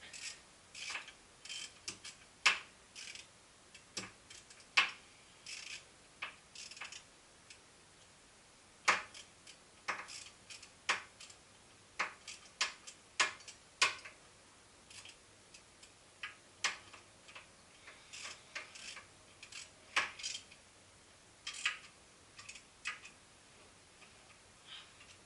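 Ratchet wrench clicking in short, irregular bursts while tightening a Mazda Miata alternator bolt to about 20 foot-pounds, close and fairly quiet with pauses between runs.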